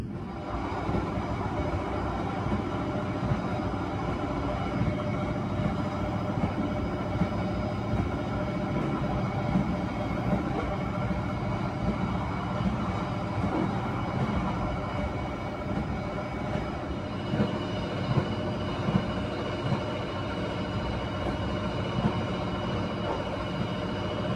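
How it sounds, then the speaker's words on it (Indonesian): The Ciremai executive passenger train running on rails, heard from inside the carriage as a steady, loud rumble with continuous wheel and track noise and faint rhythmic clicks throughout. "kereta api Ciremai telah tiba di stasiun Welleri"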